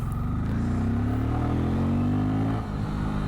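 A 2023 Bajaj Pulsar N250 Dark Edition motorcycle pulls hard in second gear, its engine note climbing steadily in pitch over a few seconds before a brief dip near the end, loud and close throughout.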